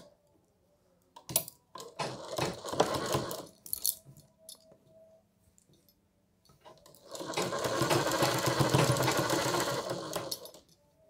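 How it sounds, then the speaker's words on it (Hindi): A sewing machine stitches a collar strip onto a blouse in two bursts: a short stop-start run with clicks and pauses, then a steady whirring stretch of several seconds, close and clear with no voices. "अब इस पट्टी को घुमाते हुए इसी मार्किंग पे सिल देंगे"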